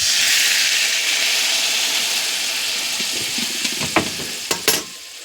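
Water is poured into a pan of chutney and hits it with a bright, hissing sizzle. The hiss is loudest at the start and slowly fades, with a few sharp pops and crackles near the end.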